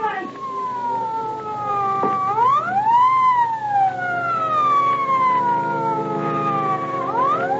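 Ambulance siren in a 1940 radio drama, a loud wailing tone that sweeps up and down in long glides, close and prominent with no talking over it.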